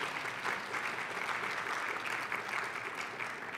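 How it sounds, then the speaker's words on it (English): Steady applause from a conference audience after five presenters at a gastronomy tourism forum panel, an even, moderately distant patter of many hands sustained throughout with no voices. "So a round of applause for all five of our presenters"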